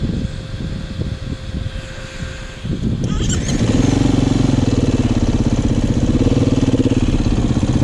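An off-road dirt bike, one of a Beta RR 500, KTM 300 or Yamaha YZ450, revs hard with clutch and throttle. Uneven engine noise at first builds into a loud, close, sustained roar with a rapid pulsing rhythm.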